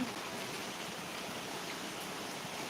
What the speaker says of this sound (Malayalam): നല്ല സൂപ്പർ മഴയാണ് കണ്ടോ